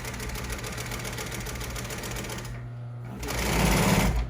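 A sewing machine stitching dining seat covers for commercial upholstery, a steady close mechanical whir that pauses briefly and then resumes louder, with no voices.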